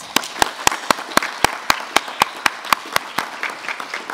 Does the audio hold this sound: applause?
yes